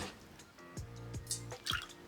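An egg and dashi mixture is poured into vessels, producing soft close liquid glugs and drips in a few short bursts against a quiet kitchen background.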